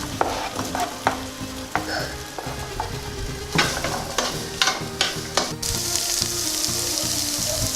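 Potatoes frying in butter in a pan, a steady sizzle broken by scrapes and clinks of a utensil stirring, the frying hiss growing louder and brighter near the end.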